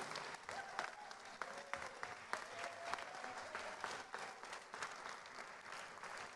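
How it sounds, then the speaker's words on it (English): Applause from an audience at an award ceremony in Bahrain, a steady patter of many clapping hands with sharp individual claps, fairly faint and distant, continuing throughout. "Please give a very, very big round of applause to Sheikh Khalifa Al Khalifa, Andrea Faragun"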